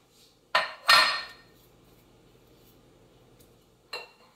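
Carrot raisin salad with orange juice being stirred in a bowl, a few sharp utensil clinks and scrapes against the dish: two close knocks near the start, then quiet, then one more clink at the end.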